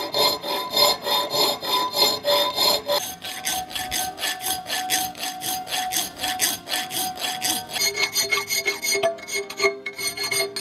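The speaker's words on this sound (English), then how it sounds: "I want to make it a little bit beefier, but we'll do some filing." A metal shifter part for an Aermacchi motorcycle is filed by hand, with steady rhythmic rasping strokes repeating close up for about ten seconds.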